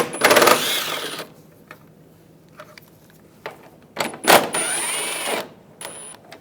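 Metallic ratcheting and clinking bursts from a 10mm socket loosening headlight bolts on a 2014-2018 GMC Sierra, two close, loud clusters of rapid clicks separated by quieter handling sounds.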